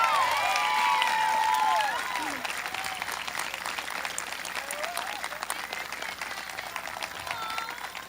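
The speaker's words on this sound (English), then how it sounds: "Please join me in a round of applause for Mrs." A large audience at a 2020 Bourbon High School graduation ceremony breaks into sustained, dense applause, loudest at first and then settling into steady clapping with a few scattered whistles and cheers throughout.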